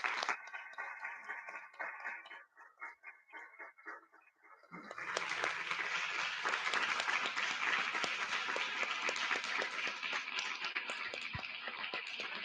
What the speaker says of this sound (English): Please stand up and welcome them with a big round of applause.